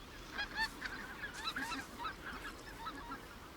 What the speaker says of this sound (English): White-fronted geese are the first to arrive, the advance guard of an enormous influx of birds